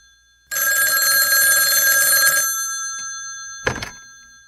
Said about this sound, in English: Harry, did I wake you up? No, the phone did